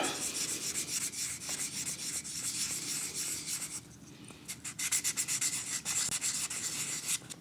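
Sandpaper rubs back and forth over a vintage pipe in quick, close, rhythmic strokes, with one short pause partway through before the scratchy sanding resumes alone.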